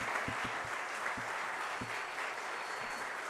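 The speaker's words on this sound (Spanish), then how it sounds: "Vamos a darle un aplauso a Eduardo." A lecture audience breaks into applause for the speaker, a soft, even wash of many hands heard at a distance and rather faintly, with a few sharper claps standing out near the start.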